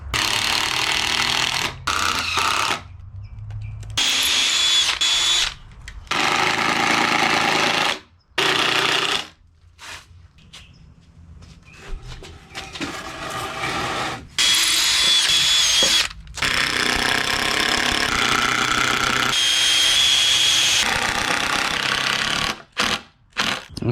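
A power drill drives screws into a wooden firewood rack in repeated loud bursts, each whir running a few seconds and stopping abruptly between screws, with brief pauses of near silence.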